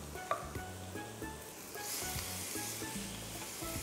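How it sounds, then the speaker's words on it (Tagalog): Tomatoes sauté softly in a hot pan, a faint steady crackle with a few quiet stirring knocks, swelling slightly partway through. "Igisa lang natin yung kamatis along with the other ingredients."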